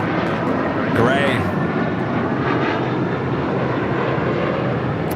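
A jet airliner taking off from runway 25 right at LAX, a steady broad engine roar filling the whole stretch at close range, with people talking over it.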